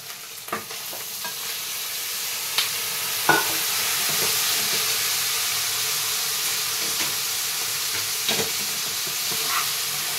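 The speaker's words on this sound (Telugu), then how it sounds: "ఇప్పుడు మటన్ వేసుకోవాలి." Mutton sizzles in a pan of frying onions and ginger-garlic paste, a steady loud hiss under occasional clanks of a spoon stirring against the pan, with no voices.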